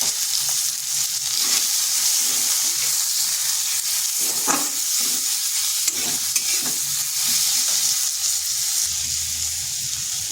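Ground cumin, coriander and chili powder masala fries in a pan for a vegetarian cauliflower dish, a loud continuous sizzle with repeated scraping stirs throughout.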